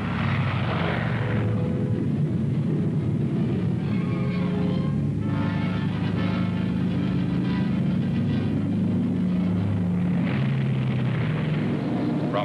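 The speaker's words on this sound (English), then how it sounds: "The B-29s took off for Okinawa" B-29 bombers of the United States Far East Air Forces take off for Okinawa during the Korean War, their propeller engines making a loud, continuous, droning roar that swells and eases without any voices.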